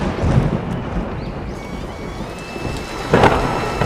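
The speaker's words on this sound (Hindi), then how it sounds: "अचानक जोरदार बिजली की गड़गड़ के साथ मूसलाधार बारिश होना शुरू हो जाती है" Heavy rain pours steadily while low thunder rumbles, with a sharper crack of thunder breaking out near the end over the constant downpour.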